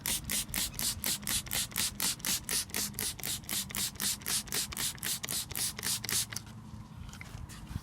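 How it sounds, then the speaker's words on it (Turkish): A hand spray bottle pumps a water-repellent mixture onto a car's glass in a fast, steady run of about twenty sharp trigger squirts, close and clear, then stops near the end. "sprey bölümüne getirdim ve cama uyguluyorum birazını"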